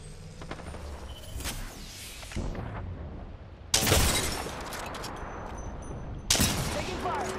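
Video-game gunfire crackles in rapid bursts, with two sharp loud blasts standing out over a busy battle soundscape and a voice talking quietly in the background.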